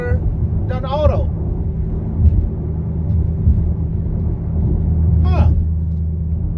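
Dodge Hellcat engine in eco mode, a steady low rumble running throughout with slight rises as it shifts, while a person talks over it.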